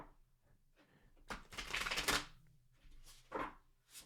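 A 1909-style tarot deck shuffled by hand at close range, with soft papery riffles and a longer burst of card flutter, then brief rustles, quiet and without talk.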